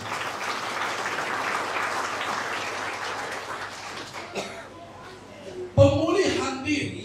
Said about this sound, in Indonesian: Berikan tepuk tangan untuk Tuhan.